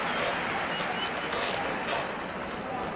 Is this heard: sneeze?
no